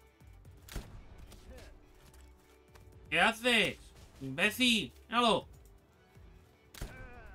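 Gunfire in the video game Palworld, a few sharp shots early on, with a player shouting and talking over the action throughout.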